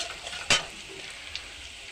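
Chopped onion and a halved bay leaf frying in a pan for a prawn and banana-stem ghonto, a quiet steady sizzle with one sharp stirring scrape near the start and a smaller tap later, brief and close.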